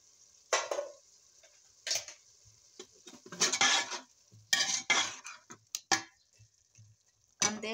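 Bitter gourd (ampalaya) is tossed into a sizzling frying pan and stirred, with a constant faint hiss broken by irregular clattering scrapes and knocks of the utensil against the pan.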